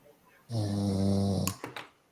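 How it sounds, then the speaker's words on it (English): A man's single loud, drawn-out snore rumbles close by, followed by a couple of short breathy snorts. "can hear him snoring."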